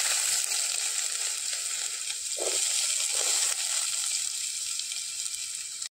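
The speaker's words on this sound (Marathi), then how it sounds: "फोडणीक टाकतोय कांदो" Chopped onion dropped into hot oil in a pan for a Marathi oyster curry tempering, giving a steady, close hiss of sizzling frying that runs throughout with no talk.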